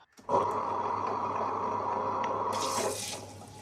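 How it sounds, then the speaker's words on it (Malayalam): Water runs in a steady, full stream for about two and a half seconds as it pours onto soaked urad dal being readied for grinding into idli batter, then cuts off with a brief splash. "ഉഴുന്നതിൻ്റെ കൂടെ ഇച്ചിരി വെള്ളം ഒഴിച്ച് കൊടുക്കാം."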